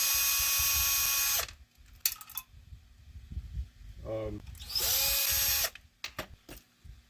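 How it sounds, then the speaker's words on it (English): A power drill backs out 6-32 screws while a motion-activated security lamp is worked on, with two loud, high-pitched whirring bursts separated by handling clicks and a short ratcheting sound, close up, and no speech over it. "Now we're going to remove these screws for 632s."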